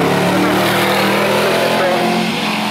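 A Dax Tojiero race car at a speedfest roars past at close range, a loud, continuous engine note with a slight pitch shift as it goes by.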